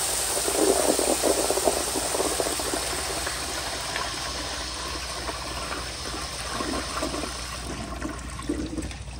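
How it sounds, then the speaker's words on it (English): A 1978 Kohler Wellworth Waterguard toilet on a flushometer valve flushes with a loud, sustained rushing gush of water that holds steady for about nine seconds without tapering, close and alone with no voices. "here is a flush"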